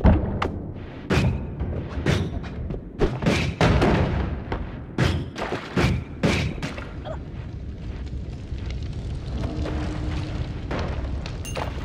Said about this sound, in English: Waste a magic missile on that